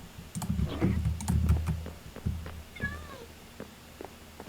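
Clementine, a pet cat, meows a few times at feeding time, close by and fairly quiet, amid light clicking and the clatter of food being handled.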